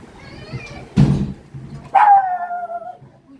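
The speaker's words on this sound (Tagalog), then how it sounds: "Galit yung mga aso." Dogs bark angrily, a single sharp bark followed by a drawn-out, falling yelp, fairly close and loud against a quiet household background.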